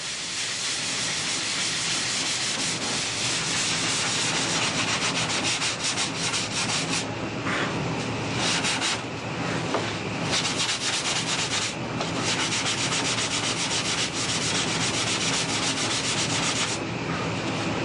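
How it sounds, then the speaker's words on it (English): Steady, loud abrasive rubbing of a sanding block on a foam wing flap, continuous back-and-forth strokes up close with slight rhythmic variation. "Hold the flap so it's parallel, even with the sanding block."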